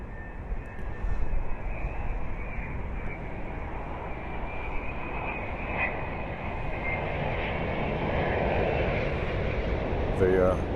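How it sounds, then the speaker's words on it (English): A Virgin Boeing 787 with Rolls-Royce Trent 1000 engines arrives at London Heathrow, its jet roar building gradually from a distance into a loud, sustained rushing drone. "So we'll just wait for this Virgin 787 to come in."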